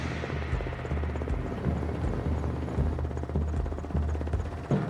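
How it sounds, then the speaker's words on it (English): Nigerian Army helicopter in flight over the Kamadugu River on the Nigeria border, a loud, steady rotor drone with rhythmic low thumping and engine whine, continuous and close from the cabin. "To reach the theater of operations, we board one of the Nigerian Army's helicopters."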